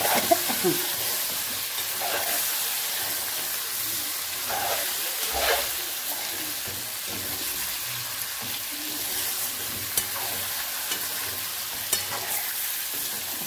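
Fish frying in a pan and being stirred, with a steady close sizzle and scraping turns running throughout, no talking.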